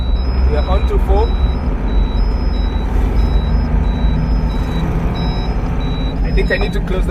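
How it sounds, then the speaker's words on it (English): A Tata LPT 1216 lorry rumbles at low speed with a heavy, steady engine drone, while a repeating high electronic beep pattern runs through most of the clip and brief hissing bursts come near the start and end. "I need to close the window so that you guys can hear that turbo sound and also the air brake sound"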